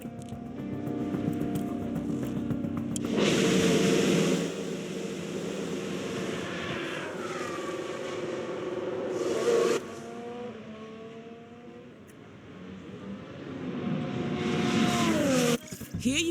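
A Formula 1 race car in the F1 Manager 23 game rolls back into the garage, its engine rising and falling in several whining surges with loud revving bursts near the start and end.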